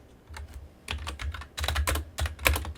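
Computer keyboard typing in short irregular bursts of clicky keystrokes, close and fairly loud, during a C programming lesson while entering scanf code, with no talking.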